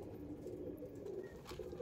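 A single male Mangalagiri-line Lalsira pigeon coos in its cage, soft repeated throaty calls rising and falling close by with no other sounds.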